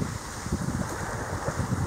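Steady wind blows across the microphone on Malibu Beach in Onna, Okinawa, an easterly breeze at the shore near high tide, a continuous rumbling gusty roar with no voices.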